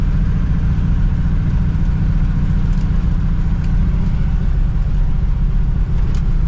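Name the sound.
1960 Pontiac Ventura engine running without a muffler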